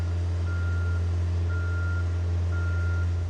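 A boom lift drives backward, its reversing alarm giving three steady beeps about a second apart over a loud, continuous engine drone.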